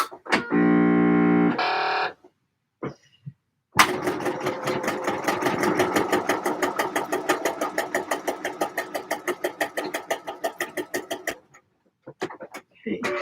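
A sewing machine stitches a pleated and gathered skirt: a short whirring run, a pause, then a longer burst of rapid, rhythmic needle pulses close by, with a voice heard intermittently.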